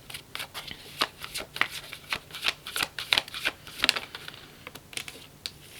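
Tarot cards shuffled by hand, close and crisp, in a quick run of riffling bursts and soft slaps with no talking.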